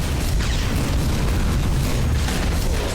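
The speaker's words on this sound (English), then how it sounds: "cannons firing at you relentlessly." Cannons in the shooter Tower of Guns boom relentlessly, dense overlapping blasts and bursts forming a loud continuous wall of explosions for three seconds.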